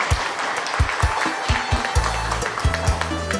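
Applause from guests at a Vietnamese engagement ceremony, a steady crowd clapping with sharp individual claps standing out, moderately loud; a sustained tone enters midway under the clapping.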